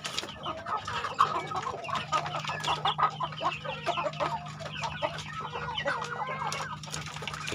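A flock of chickens clucks and chatters continuously nearby while feeding on water hyacinth, with busy overlapping calls over a low steady hum.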